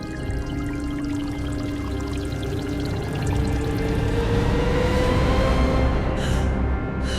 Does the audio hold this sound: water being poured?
yes